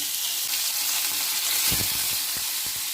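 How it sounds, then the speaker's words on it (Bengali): Pieces of katla fish fry lightly in hot oil, giving a steady, close hiss and crackle with scattered sharper pops throughout, no voices. "হালকা করে কাতলা মাছগুলো ভেজে নেব।"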